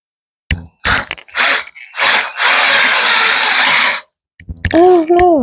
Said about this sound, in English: Oh yeah, my wood cracked.